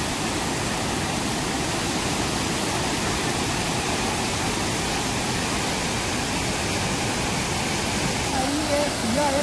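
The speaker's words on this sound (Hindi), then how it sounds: "यहाँ पे जो आप लोग नीचे झरना दिखाई दे रहा है" A mysterious waterfall viewed from above, its water falling into the pool below, producing a steady, dense broadband roar that stays constant and fairly loud throughout.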